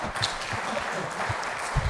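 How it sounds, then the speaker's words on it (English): An audience applauds panelists at a live event, a steady wash of clapping held at moderate level for a couple of seconds with no speech over it. "I think they deserve a very big round of applause for that."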